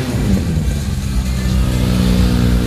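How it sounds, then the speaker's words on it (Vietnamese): A BMW engine roars loudly at a BMW motorsport show on a race track in Ho Chi Minh City, with a steady, close, revving drone and no voices. "Tiếng động cơ gầm thét trên đường đua"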